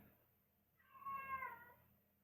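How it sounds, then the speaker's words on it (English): A short, faint cat meow rising and falling once, heard alone against quiet room background. "Cats."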